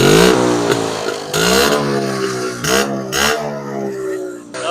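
A 45-year-old motorcycle is revved up close in a series of loud rising bursts, the engine dropping back between each throttle blip and climbing again.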